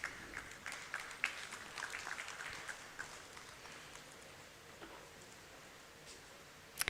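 An audience at an International Literacy Day ceremony applauds as a shield is presented, faint scattered clapping that is busiest early and thins out toward the end.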